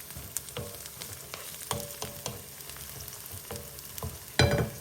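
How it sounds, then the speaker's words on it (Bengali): Onions and spices fry in a pan for a home-style deshi chicken dish, a steady close sizzle with repeated spatula clicks and a loud clatter near the end. "তো এটা আস্তে আস্তে ভাজা হয়ে যাক"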